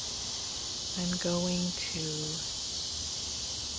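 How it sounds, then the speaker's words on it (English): Cicadas drone outdoors in a continuous high, hissing chorus that holds steady throughout, with a few brief tonal calls rising over it near the middle. "have a moment of silence so that we can listen to the cicadas"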